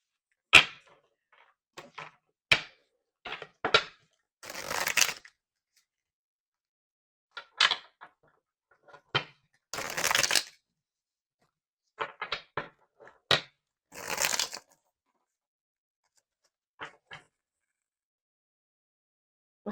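A deck of tarot cards being shuffled in intermittent riffles and soft slaps, close up, with quiet pauses between bursts and no voices.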